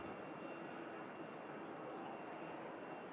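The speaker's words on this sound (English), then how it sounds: "we have this EasyJet 320 coming in from Paris Charles de Gaulle" An EasyJet Airbus A320 arriving from Paris Charles de Gaulle at Manchester Airport gives a steady, fairly faint broadband jet roar that holds evenly throughout, with no talk over it.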